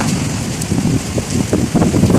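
The year's first rain falls in Bahrain as a steady, loud wash of rainfall, with rumbling wind buffeting the microphone throughout.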